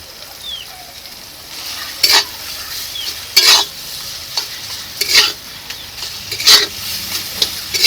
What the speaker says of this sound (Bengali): মশলাটাকে খুব সুন্দর করে কষিয়ে নিয়েছি এখন চিকেন কিমাটা দিয়ে দেবো